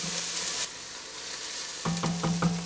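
Green onions sizzling in a pot for rice soup, a soft steady hiss broken by a few quick stirring scrapes near the end.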